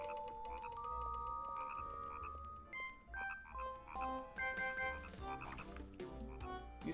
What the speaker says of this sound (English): These frogs are just jumping around, having a good old time.